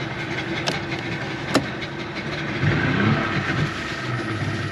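A two-stroke outboard boat engine runs during a flush, a steady, fairly close mechanical drone with a couple of sharp clicks and a brief swell in level midway, with no talking.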